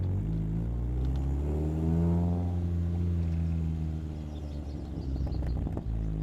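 Chevrolet engine running close and loud, with harmonic tones sweeping as revs rise and fall, easing off in first gear around 2,000 RPM; rough burbling and crackling toward the end.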